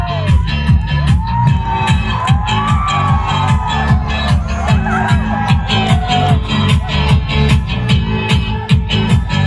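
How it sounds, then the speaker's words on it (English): Festival audience at a Karbi Youth Festival beauty pageant cheering and whooping steadily for three male judges on stage, with loud music and a rhythmic beat running throughout beneath the crowd noise. "Cheer up for all the three male judges, ladies and gentlemen."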